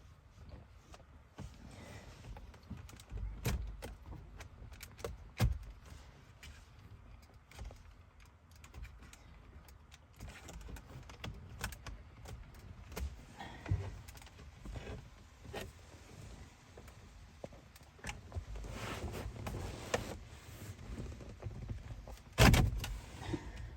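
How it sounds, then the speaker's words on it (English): Plastic pry tool popping trim panels off the dash of a fifth-generation Toyota 4Runner, a run of scattered clicks, scrapes and sharp snaps close by, with one loud crack near the end. "I'm just going to take my plastic plunger here and pop them off"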